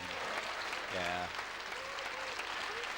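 Crowd applause for the winner at a NiBS Auckland 2015 bouldering climbing competition, a steady wash of clapping through the whole stretch with a brief voice cutting in partway.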